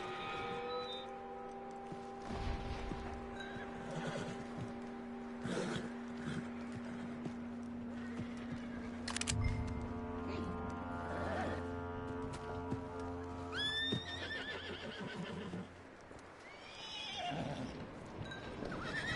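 Horse whinnies and hoofbeats from the Red Dead Redemption 2 video game, a drawn-out neigh over steady clip-clop, set against a tonal music and ambience bed, with a second whinny near the end.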